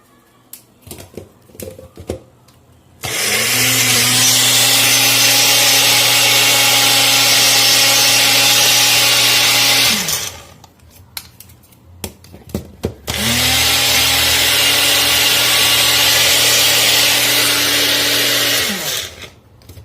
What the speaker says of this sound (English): And grind it into thick paste.